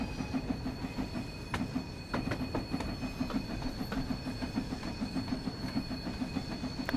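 Steam locomotive rolling along the track in the game Train Sim World 2, a steady rhythmic clickety-clack of wheels over rail joints with a low rumble and faint squeal, fairly quiet and with no voices.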